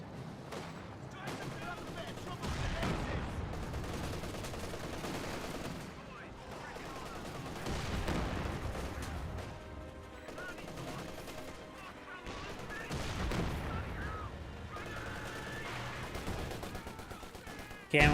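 Company of Heroes 2 battle sounds with bursts of gunfire, machine guns and cannon booms pile up into a dense continuous roar, mixed with a voice talking throughout.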